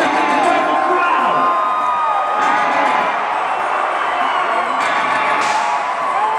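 A large outdoor concert crowd at a show in The Woodlands, Texas cheers, whoops and yells continuously, a dense, loud roar of many voices sustained throughout with scattered shouts rising above it.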